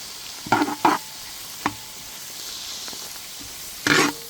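Whole spices, cinnamon pieces, cardamom, cloves and kalpasi, fry in hot oil for a Mannargudi chicken kulambu. A steady sizzle runs throughout, broken by a few sharp stirring scrapes near the start and at the end.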